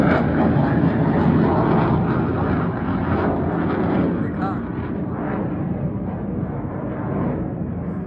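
A fighter jet passes over a residential neighbourhood in Kanpur with a loud, sustained roar that fills the whole stretch and eases only slightly toward the end.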